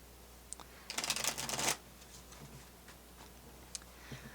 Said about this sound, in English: Let's pull some tarot cards and see what we receive here.